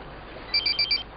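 A mobile phone rings with four short, bright electronic trills in quick succession, close and clear over a quiet room.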